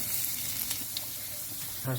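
Chopped garlic fries in hot cooking oil in a wok, giving a steady, soft sizzle over a brief moment with faint stirring sounds.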